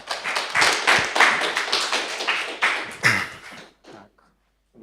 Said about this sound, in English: So give a big round of applause to Alexey for being here today with us.